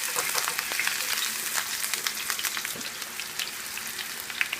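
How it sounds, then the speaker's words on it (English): Onions frying over medium heat in extra virgin olive oil give a soft, steady crackling sizzle with scattered pops, fairly quiet and close, with no voices. "Over medium heat, using extra virgin olive oil, I'm going to add my onions."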